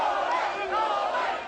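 A chaotic crowd swarming around Novak Djokovic's car in Melbourne, many voices shouting and chanting together in a steady loud roar throughout.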